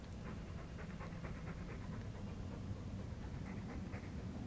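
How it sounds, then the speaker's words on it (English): A dog pants rhythmically in the video game Dragon Age II, quick close breaths repeating steadily over a low background rumble, with no talking. "All that noisy dog breath, day in, day out."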